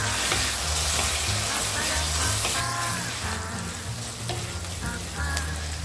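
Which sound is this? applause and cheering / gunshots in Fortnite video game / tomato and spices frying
tomato and spices frying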